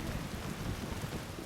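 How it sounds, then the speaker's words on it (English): Steady, dense rainfall fills the scene in the video game Yakuza Kiwami, a continuous broadband hiss with no gaps, heard alone at moderate level. "Oh no, it's raining."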